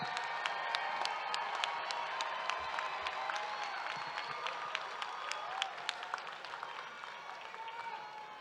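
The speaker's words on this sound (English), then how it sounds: "stand up and you applaud these individuals who are getting their degrees today" A large audience at a university graduate school fall commencement stands and applauds the degree recipients. Sustained, dense clapping fills a big hall, with some cheering mixed in, and it keeps going at an even level throughout.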